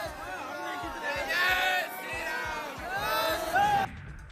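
A dense crowd of devotees fills the Ram temple in Ayodhya, with many overlapping voices, calls and chanting over a steady, rhythmic thumping beat that runs throughout.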